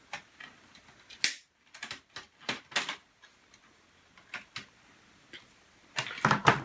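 Cutters snip a tight cable during repair of a Pioneer CT-540 cassette deck, giving a scattering of sharp, close clicks and snaps separated by quiet gaps.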